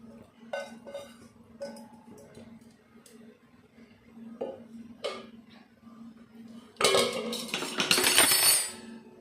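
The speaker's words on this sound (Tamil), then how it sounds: "நல்லா கிளறி கொடுக்கலாம்." A metal spoon taps and clinks against a pot of boiling water a few scattered times, then scrapes and stirs loudly through wet rice for vegetable biryani near the end.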